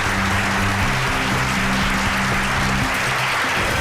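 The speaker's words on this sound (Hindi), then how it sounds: "तालियां!" A crowd breaks into loud, steady applause on a Hindi crime drama set, a dense wash of clapping that holds level throughout with a faint tonal hum beneath it.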